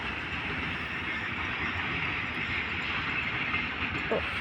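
A freight train rolls past close by, a steady, dense rumble and roar of wheels on rails that holds at constant loudness throughout, with faint voices mixed in.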